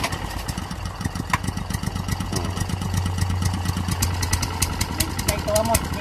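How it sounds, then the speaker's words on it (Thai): A walk-behind Poulan lawn mower engine chugs steadily at a fairly even pace as it is revved, close by, with a low throbbing drone and faint voices nearby. "เร่งเครื่องหน่อย"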